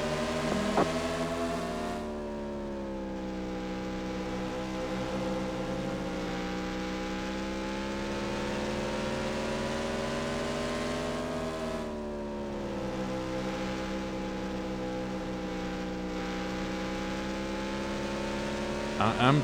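Race car engines in the NASCAR Racing 2 game drone continuously as one steady, harmonic-rich whine. The pitch sags and swells with throttle changes across two long passes.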